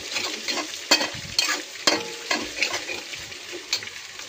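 Egg being stirred into fried rice in a hot pan, with a spatula scraping and clattering in irregular strokes over a steady sizzle, close and fairly loud, no talking.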